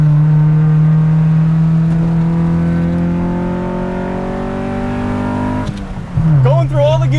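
A 1994 Honda Civic engine droning at steady revs as the car moves through its gears, a loud close harmonic hum that slowly rises in pitch, then drops sharply at a shift before climbing again.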